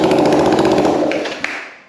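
Engine of a 1965 Honda CB450 Black Bomber motorcycle catching with choke on, a loud, fast rattling putter that bursts briefly and then dies away.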